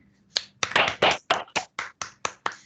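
Students in a lecture hall clap about ten times in a loose, uneven rhythm, each sharp clap close and fairly loud, with no talking.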